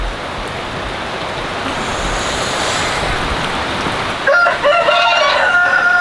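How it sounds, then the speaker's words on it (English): A rooster crows loudly partway through on a farm, its harmonic call standing out over a steady rushing background noise. "every time I pass by I always hear the roosters"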